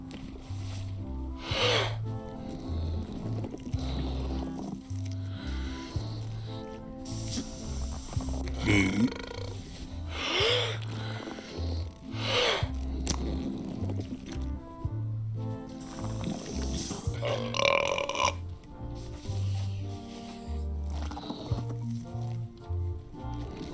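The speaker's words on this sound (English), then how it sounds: "Hey, how about a burping contest?" Burping contest in Return to Monkey Island, with a series of long, loud, rumbling belches spaced through the stretch over a steady low musical backing.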